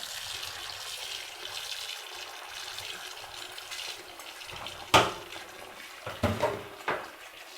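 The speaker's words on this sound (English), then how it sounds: "I would wash the leaves on running water" Roselle hibiscus leaves being washed under a running tap: a steady close rush of water with a few sharper splashes and knocks toward the end, no talk.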